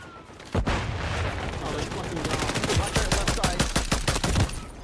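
Rapid automatic gunfire and bursts in Call of Duty Modern Warfare III multiplayer, starting suddenly after a brief lull and continuing as dense, loud, close volleys with a steady stream of shots toward the end.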